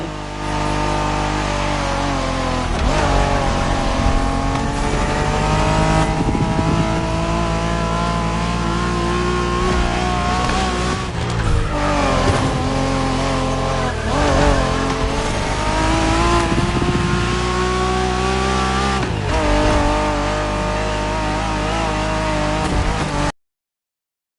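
A Honda NSX sports car engine in a racing video game drones and revs continuously at close range, with rising and falling pitch and occasional tire noise, over a busy layered backdrop.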